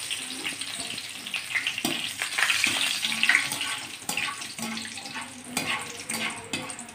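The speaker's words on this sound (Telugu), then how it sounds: "ఇందులో కూడా కొద్దిగా కరివేపాకు కూడా వేసి ఫ్రై చేసుకోవాలి." Roasted gram dal and curry leaves fry in hot oil while boondi is made, a continuous bubbling hiss that swells and ebbs with stirring and occasional light clinks, with no voices.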